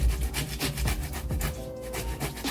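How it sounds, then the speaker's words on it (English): Raw beetroot rubbed against a hand grater, a close rhythmic rasping scrape repeated in quick back-and-forth strokes, alone without speech. "I'm gonna cut our beetroot in 2 parts, and then I'm gonna use this grater to grate it."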